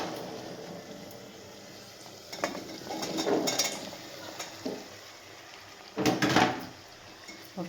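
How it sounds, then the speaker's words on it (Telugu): Okra (lady's finger) is stirred in a pan in two or three short bursts of scraping and clattering against the metal over a faint sizzle, close by, with quiet pauses between. "బెండకాయలు వేసి మంచిగా కలుపుకోవాలి"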